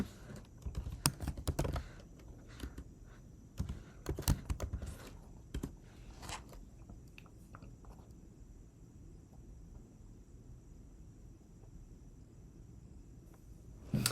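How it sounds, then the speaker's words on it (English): A computer keyboard is tapped close by as a shell command is entered, with quick clusters of clicky keystrokes in the first half, then near silence with faint hum and a stray tap. "we can just type ZWE start"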